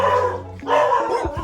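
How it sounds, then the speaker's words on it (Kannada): Dogs bark and howl close and loud in a short burst of drawn-out, yelping calls. "ನನ್ನ ಹತ್ರ ಟೆರರ್ ಆಗಿರೋ ಡಾಗ್ಸ್ಗಳಿದೆ ಆಲ್ರೆಡಿ."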